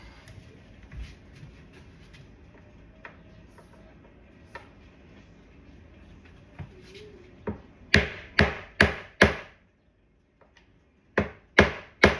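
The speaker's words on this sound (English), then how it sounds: "take your screwdriver, get it in, and then hit it with the hammer" Sharp, loud metallic strikes: a quick run of five hammer blows on a screwdriver during a Level Lock+ door lock install, a pause, then three more, over faint background noise.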